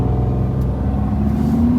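A 2020 Lamborghini Huracán Evo V10 accelerates hard in first gear, a loud sustained engine roar climbing steadily in pitch from inside the car.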